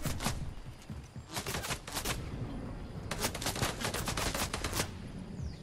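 Rapid bursts of Fortnite gunfire crackle in several volleys of sharp, broadband shots, clustered around the middle and end, with no talking over them.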